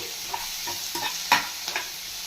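Onion, curry leaves and small tomatoes frying in a pan for a chutney, a continuous sizzle broken by several short stirring scrapes, one louder than the rest.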